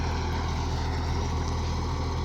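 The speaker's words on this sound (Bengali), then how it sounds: "শিয়ালদা বেঙ্গলের রোটার, 72 ফলের রোটার" A tractor pulls a Shialdah Bengal 72-blade rotavator through a field, tilling in first gear at low revs. It gives a steady, loud, continuous engine drone with a heavy low rumble and no pauses.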